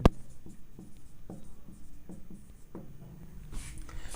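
A pen writes the word sulfate by hand in a chemistry lesson, giving close, quiet scratchy strokes in a quick uneven rhythm with small taps between them.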